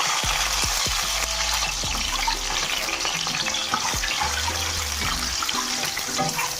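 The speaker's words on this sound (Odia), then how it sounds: "ଏ ଅଣ୍ଡା ଟିକେ ଭାଜିଦେବା।" Eggs fry in hot mustard oil in a kadai, a loud, steady crackling sizzle with occasional spatula knocks and scrapes, close and without talk.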